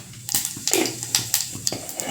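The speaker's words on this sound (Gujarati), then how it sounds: "નાખી દો વઘાર." Hot tempering poured into toor dal in a kitchen pot, a series of sharp metallic clinks and scrapes of a ladle against the vessel with brief sizzling bursts, close and irregular, no speech.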